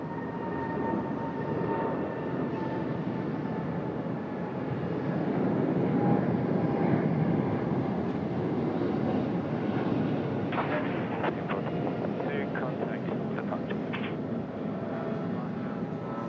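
Jet airliner landing at Sydney Airport, a broad, steady roar of engines and rushing air that swells and holds at moderate distance, with faint clicks toward the end.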